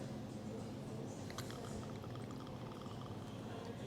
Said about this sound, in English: I'm going to pour myself some here.